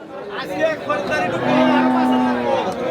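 A milking cow at a cattle market gives a drawn-out low moo in the middle, with murmuring crowd chatter and people talking around it.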